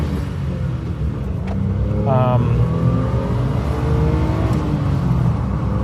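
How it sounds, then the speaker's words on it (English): A turbocharged 1999 Suzuki Jimny engine hums and revs steadily from inside the vehicle as it leaves a car wash, with a brief rising whine partway through, continuous and fairly loud. "The one I'm driving here, I'm leaving the car wash as I speak, is a 1999 Suzuki Jimny"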